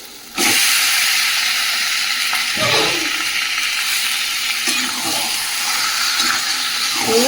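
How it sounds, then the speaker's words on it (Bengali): Chicken pieces hit a hot pan of spiced capsicum masala, setting off a loud, steady sizzle and hiss that carries on for several seconds with no talking. "এবার চিকেনটা দিয়ে দেবো"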